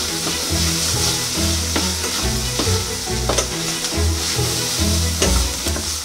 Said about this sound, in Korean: 좀 천천히 볶아서 양파 달콤한 맛을 많이 뽑아주면 좋아